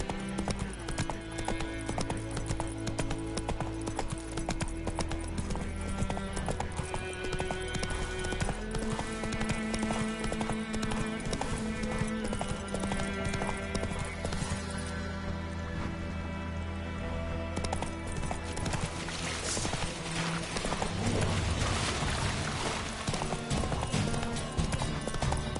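Roach, a horse in The Witcher 3, gallops in steady clip-clop hoofbeats under a loud orchestral game score that dominates throughout, with a possible brief whinny.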